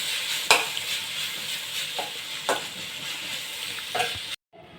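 Jute leaves (pat shak) being stir-fried in a pan, a steady sizzle broken by several spatula scrapes and knocks at irregular intervals before cutting off abruptly near the end.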